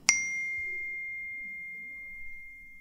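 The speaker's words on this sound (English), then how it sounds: "That's the sound of the default text notification on the iPhone 5S and the new iPhone 6." The iPhone default text notification tone Note, as on the iPhone 5S and iPhone 6: a single bright chime struck once, then a pure tone ringing on and slowly fading over nearly three seconds, clear and alone.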